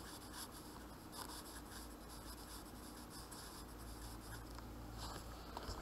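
A pen scratches across paper while the names of two Andean animals are written out, a faint, continuous rubbing with small irregular strokes over a soft background hiss.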